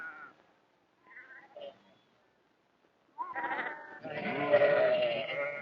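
Sheep herded by a Navajo shepherd bleat in short, wavering cries, a few faint calls at first, then a louder, longer bleating chorus close by.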